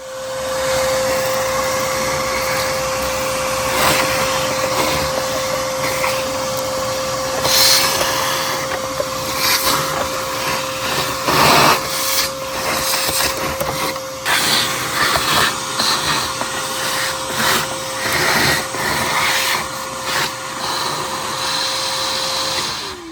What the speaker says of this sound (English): we'll go ahead and clean that out with the vacuum.